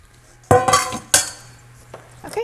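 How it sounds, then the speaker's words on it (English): Scrambled eggs tipped from a pan into a dish give a few close clattering knocks of cookware and utensils, two sharp bursts followed by lighter taps. "I'm just going to dump it in my dish here."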